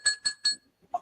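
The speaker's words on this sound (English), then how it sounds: "The bell rings" Three sharp metallic ring-bell strikes in quick succession open a championship wrestling match at an independent show, each ringing clang decaying briefly before faint crowd murmur follows.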